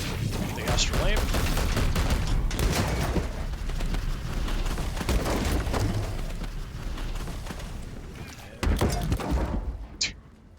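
Explosions and clattering impacts in Warhammer 40,000: Chaos Gate - Daemonhunters roll on continuously with a dense rumble, a sharper burst near the end, and someone talking over them.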